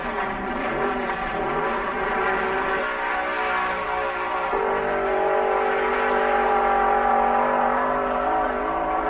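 A Chevy-powered drag racing car roars down the strip at Raceway Park during the 1970 NHRA US Nationals, a loud sustained engine howl that shifts pitch as it accelerates.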